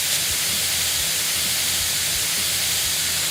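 Steam hisses off a rapid-recovery cooking plate in a commercial kitchen, a loud, continuous broadband rush with a low rumble beneath it.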